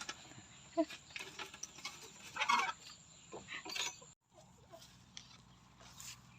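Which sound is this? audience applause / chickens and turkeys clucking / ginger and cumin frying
chickens and turkeys clucking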